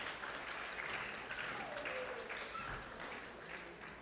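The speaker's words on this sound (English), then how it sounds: "So we'll please give them a round of applause." Audience applause at a Maha Shiva Ratri Bhakti Yoga program, a steady wash of clapping from a crowd heard fairly faint and somewhat distant, fading slightly toward the end.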